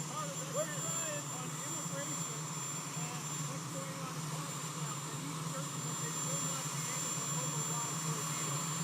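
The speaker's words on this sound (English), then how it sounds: "You're competing with a helicopter, John." Constant roar of a helicopter overhead, steady and loud throughout, with faint voices beneath it.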